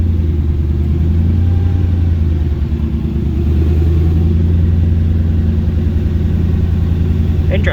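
A Ford Capri fitted with a Mercedes M113 5-litre V8 drives along with a deep, steady low rumble and mild throttle swells, heard from inside the car.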